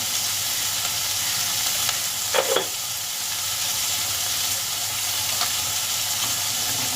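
Onions sautéing in a pan for liver curry give a steady, close sizzle that runs unbroken throughout, with a couple of soft stirring scrapes partway through.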